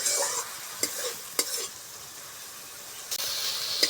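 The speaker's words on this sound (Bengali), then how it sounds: "কুলেরা ডাঁটাগুলোকে ভালো করে কষিয়ে নেব।" Kulera stems stir-fried in a pan, a soft steady sizzle broken by several sharp scraping strokes of a spatula against the pan, close and fairly quiet, with no talking.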